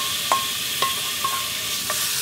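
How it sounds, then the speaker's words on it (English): Beef and marinated shiitake mushrooms stir-fry in a pan with a steady, even sizzle and four soft, evenly spaced utensil scrapes and clicks. "We have to stir fry this until beef is no longer pink and also mushrooms are well cooked and softened"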